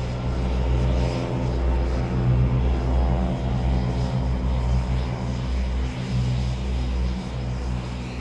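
A Eurofighter Typhoon jet flies during a test flight in Spain, its engine a steady, loud droning roar that holds level across the whole stretch with no voices.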